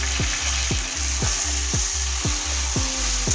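Boiled taro tipped into a pan of fried garlic and green chilli, sizzling loudly and steadily, with a spoon scraping and stirring in regular strokes roughly every half second.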